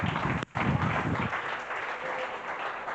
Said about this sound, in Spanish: Esto merece un aplauso, ¿no?